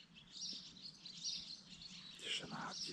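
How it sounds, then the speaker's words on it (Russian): Birds chirp and sing in quiet countryside beside a lake in Montenegro, several bright calls coming and going over a calm background, with a louder burst of song near the end. "Тишина, птицы поют."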